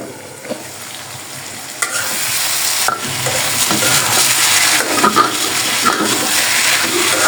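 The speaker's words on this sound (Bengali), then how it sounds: "তরকারিটা কষানো হয়ে গেছে" Pumpkin and radish curry with puti fish is stirred and sautéed in a pan, with steady sizzling frying and scraping stir strokes throughout, close and fairly loud.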